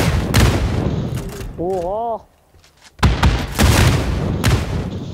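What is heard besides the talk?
explosions from PUBG New State video game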